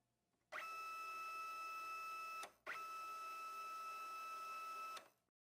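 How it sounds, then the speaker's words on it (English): A Magicard Enduro card printer runs its rollers against a cleaning card in two sustained mechanical whirring passes with a steady tonal hum, separated by a brief pause, close and alone. "Hold the Up Move Card button while pressing the cleaning card onto the rear roller for 15 to 20"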